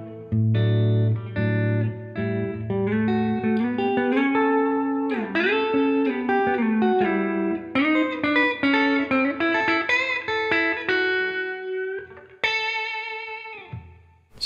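Electric guitar played through a Bugera V22 Infinium valve amp with added reverb, ringing out clear sustained chords and melodic lines that linger in a reverb tail, loud and alone for the whole passage.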